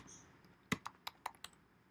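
Half a dozen quiet computer keystrokes tap out unevenly, spaced a fraction of a second apart, as a networking command is typed. The keystrokes follow a brief hush.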